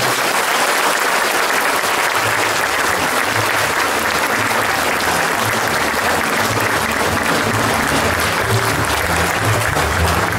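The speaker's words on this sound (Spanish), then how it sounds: "vamos ahora a dar un aplauso muy fuerte, pero de verdad, a los nuevos confirmados" A church congregation at a chapel inauguration gives loud, sustained applause for the newly confirmed, a dense, even roar of many clapping hands lasting the whole stretch.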